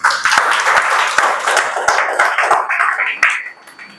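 A church congregation claps loudly and steadily, a dense burst of applause with sharp individual claps standing out, fading slightly toward the end with faint voices underneath.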